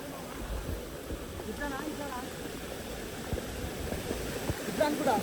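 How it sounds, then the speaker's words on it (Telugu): A forest waterfall pours steadily in broadband rushing water, constant and fairly near, with faint bird-like chirps and brief voices over it. "ఒక దగ్గర నుంచి ఫుల్ ఇట్లా వాటర్ ఫాల్స్ వస్తున్నాయి"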